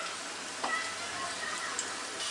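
Potato French fries deep-fry in hot oil, giving a steady, even bubbling sizzle close by with a faint tick or two and no stirring.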